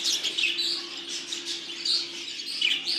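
Budgerigars in a show breeder's aviary chirp and warble continuously, a dense chatter of many birds close by, with a steady low hum beneath and no voices.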